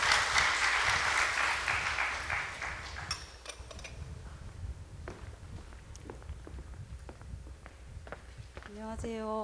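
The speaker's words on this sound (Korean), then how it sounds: "우리 집사님 나오실 때 우리 박수로 맞이하겠습니다" A congregation at a Friday prayer meeting applauds a deaconess coming forward to give her testimony; loud clapping opens the moment, then fades within a few seconds into shuffling footsteps, light knocks and room noise, followed by a brief microphone tone.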